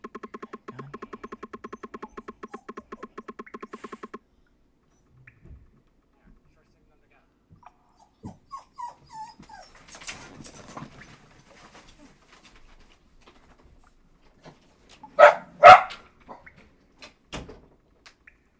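Dogs in a room give scattered barks and whimpers, faint at first and then a few louder yelps near the end, following a stretch of rapid buzzing pulses.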